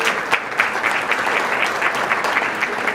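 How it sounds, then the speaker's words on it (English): Applause from an audience at a convention trade luncheon, a dense, steady roar of many hands clapping, loud and continuous throughout. "please give yourselves a round of applause"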